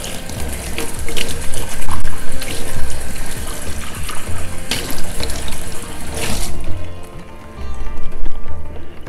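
Tap water runs steadily into a sink while a teapot is rinsed under it, a close, continuous splashing flow that thins out briefly near the end before picking up again; no one speaks.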